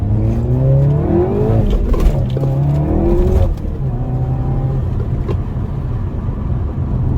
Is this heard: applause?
no